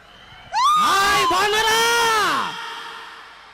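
Audience at a comedy show shouting and cheering on cue, one loud drawn-out yell rising and falling in pitch for about two seconds before fading into background noise.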